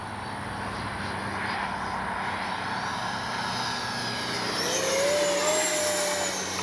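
An FMS Rafale 80mm electric RC jet flies past with a steady, loud ducted-fan whine that rises in pitch and swells as it comes closer.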